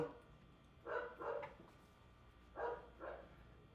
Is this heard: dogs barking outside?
yes